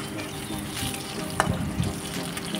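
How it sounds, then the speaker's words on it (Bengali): Potatoes fry in a little oil tempered with cumin seeds in a kadai, a steady close sizzle with a brief bright clink and a couple of soft knocks from stirring. "আর আলুগুলোকে আগে একটু লাল করে ভেজে নেব।"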